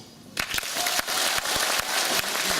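Audience applause at a performance in Kalush, starting abruptly after a quiet moment and continuing as a loud, dense burst with sharp individual claps standing out.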